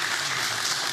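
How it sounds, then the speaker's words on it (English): A symposium audience on adult vaccination applauds the first two presenters, steady dense clapping filling the whole moment without a break, fairly loud and close. "I would like to have one round of applause for first two presenters."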